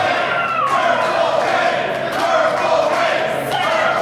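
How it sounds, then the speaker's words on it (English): A pro wrestling crowd at a Victory Pro Wrestling show in Bayshore roars and cheers loudly and steadily, with scattered thumps and stomping under the noise. "Crowd fired up here."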